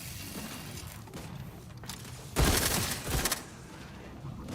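Sniper fire in the game The Outer Worlds 2: a sharp, loud crack with a short crashing burst in the middle, over a low game backdrop.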